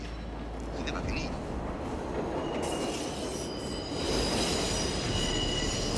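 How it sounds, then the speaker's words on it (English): A train rumbles with a continuous low roar, rattle and faint wheel squeal in a tense film scene, growing louder toward the end as it seems to draw closer. "the edit holds on this tense expression while a distant train sound goes louder and louder"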